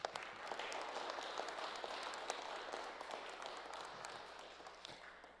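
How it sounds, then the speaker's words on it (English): A room of veterans gives themselves a round of applause at a certificate presentation: soft, fairly distant clapping from a modest crowd with scattered sharp individual claps, fading slightly toward the end. "So can you give yourselves a round of applause?"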